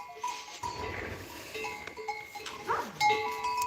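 Goats wearing bells move about on a village farm, with irregular metallic clinks and clanks from their bells scattered through the clip, fairly close, alongside occasional bleats in a quiet rural setting.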